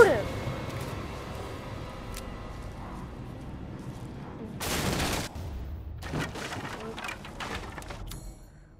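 Gunfire in the video game Resident Evil Village, with a loud burst of shots in the middle followed by scattered sharper reports, all under a constant muffled game soundscape and a talking voice.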